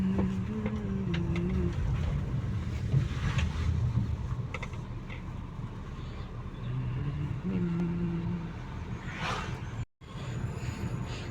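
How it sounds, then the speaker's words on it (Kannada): A vehicle loaded with ginger passes by, a steady mid-level engine rumble with wind noise, alone and fairly close. "ನೋಡಿ ಅಲ್ಲಿ ಒಂದು ಗಾಡಿ ಹೋಗ್ತಾ ಇದೆ ಶುಂಠಿ ಗಾಡಿ ತೋರಿಸ್ತೀನಿ"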